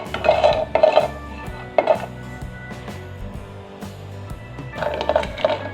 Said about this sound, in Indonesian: Lalu aku mau masukin cengkeh dan juga kayu manis